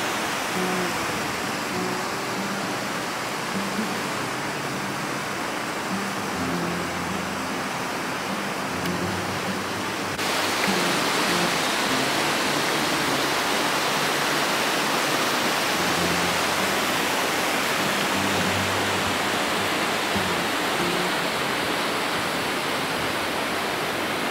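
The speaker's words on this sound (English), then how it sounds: "I think it's the South Kings River." The South Kings River near Kings Canyon rushes steadily, a dense, continuous wash of flowing water that grows slightly louder partway through, with no voices.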